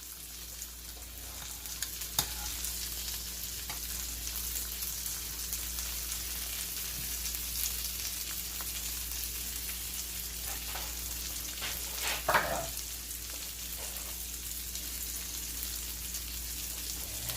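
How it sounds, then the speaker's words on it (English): Food frying steadily in a thin bed of canola oil spray for a chicken stroganoff, a close, continuous soft sizzle and crackle with occasional faint stirring sounds. "that spray makes a nice little bed of oil for these to get fried very nicely"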